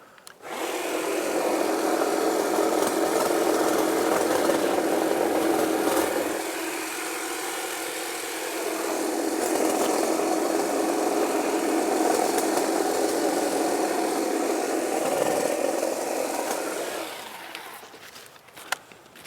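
Stihl HLA 56 long-reach battery hedge trimmer running steadily for about seventeen seconds, a continuous motor buzz with a brief dip in level midway, then winding down near the end.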